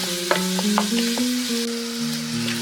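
Dry spices frying in a pan on a medium gas flame for a dhaba-style chicken curry, a steady loud sizzle with scraping stirs and clinks throughout, no talk.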